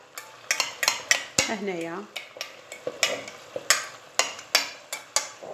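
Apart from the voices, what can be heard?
onion frying and being stirred in a pan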